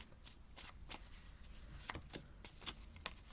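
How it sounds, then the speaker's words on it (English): A deck of tarot cards is shuffled by hand, giving quick papery bursts and flicks in an irregular rhythm, close and fairly quiet with no talk. "You guys see me shuffling."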